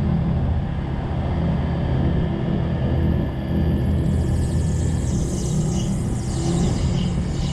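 Gyrocopter engine held at a steady 2000 RPM during rotor pre-rotation before takeoff, a dense continuous droning rumble with a brief dip near the middle, loud and close, no talk.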